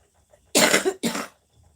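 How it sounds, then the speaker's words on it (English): Two harsh coughs in quick succession, close and loud, breaking a quiet background. "I've got a bit of a cough going on."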